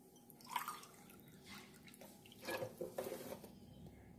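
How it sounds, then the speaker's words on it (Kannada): Water poured from a cup onto uncooked rice in a pot makes a soft splashing trickle in short bursts, close and fairly quiet. "ಅದಕ್ಕೆ ಎರಡು ಕಪ್ನಷ್ಟು ನೀರು ಹಾಕ್ಕೊಳ್ತಾ ಇದ್ದೇನೆ"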